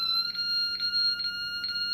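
Short-circuit component identifier on an electronic circuit board giving a continuous high electronic tone that pulses roughly twice a second, steady and close.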